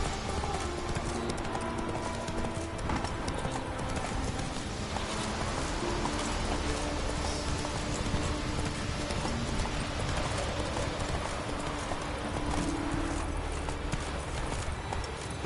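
A horse's hooves clip-clop in a quick, steady galloping rhythm throughout, moving through the world of The Witcher 3 video game, with faint background ambience underneath.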